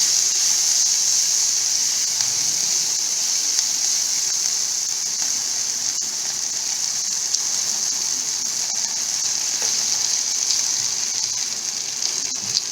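Julienned ginger and spring onion whites frying in a pan, a loud steady hiss and sizzle of hot oil running continuously without talk.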